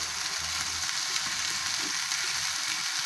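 Beef pieces for a Pakistani-style Philly cheesesteak frying in a pan, giving a steady close hiss of sizzling oil with faint stirring scrapes, no voices.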